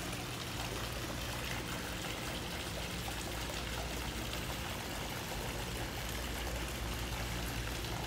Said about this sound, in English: the big cross and like a waterfall flowing down into it